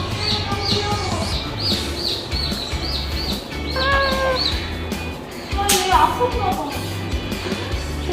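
Repeated high, thin chirps of young chicks peep in rapid runs over a busy background of murmuring voices and low rumble, at Gyeongju Bird Park in South Korea.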